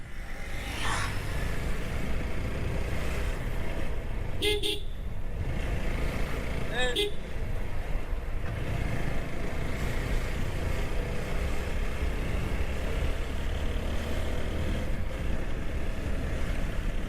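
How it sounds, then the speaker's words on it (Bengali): Cars and trucks idle and creep in a rain-soaked traffic jam on the Cox's Bazar–Chittagong highway, a steady low engine rumble and road hiss throughout, with a couple of brief horn-like tones and people talking over it. "বৃষ্টিও হচ্ছে, গাড়িও জ্যাম।"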